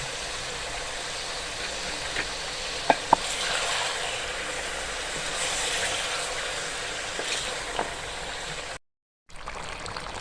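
Soft, steady sizzling of garlic-ginger paste frying in a pot for chicken handi, with a few faint scraping clicks of stirring, quiet and continuous.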